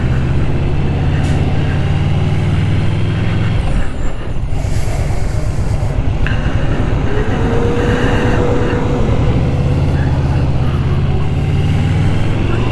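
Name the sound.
2020 Yamaha VMAX 1700cc motorcycle engine revving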